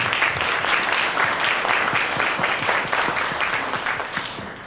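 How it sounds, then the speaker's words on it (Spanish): Dense, steady applause from an audience at a book presentation, loud and close, with many hands clapping in a continuous wash that thins slightly toward the end. "Un fuerte aplauso para Lucas Palacios Liberato."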